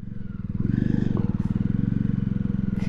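A vehicle driven over grass in the Nilgiris hills near Coonoor, its engine thrumming loud and close in a steady rapid pulse, with faint clatter over it.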